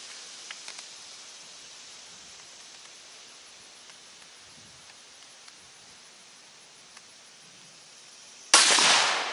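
A single sharp rifle shot fired through a scope cracks loudly and close after a long stretch of quiet outdoor ambience, followed by a brief decaying tail.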